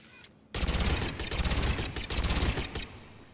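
Rapid weapon fire echoes across a shooting range in Mass Effect 3. After a brief quiet moment, a loud continuous burst of automatic shots runs for almost three seconds, then stops abruptly.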